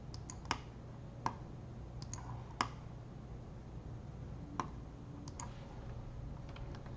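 Quiet computer mouse clicks during SolidWorks assembly work, a handful of sharp single and double clicks spread over several seconds at close range, with no talk.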